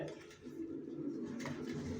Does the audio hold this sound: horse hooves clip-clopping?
no